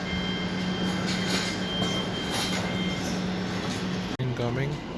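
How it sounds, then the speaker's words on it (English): A fast train on the Cambridge to London King's Cross line gives a steady, loud rumble and hiss of rail noise with a constant low hum, ending in a short break and a brief tonal whine. "Yeah, that's a London King's Cross train."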